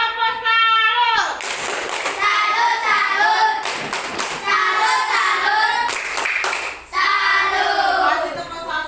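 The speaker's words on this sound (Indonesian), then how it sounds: "Tepuk salut untuk kelompok 4." A group of children chants and claps together in a 'tepuk salut' cheer for group 4, with bursts of sharp rhythmic hand claps alongside loud, close, sing-song voices.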